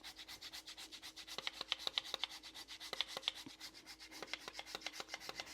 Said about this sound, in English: Going to grate a little piece of ginger in there.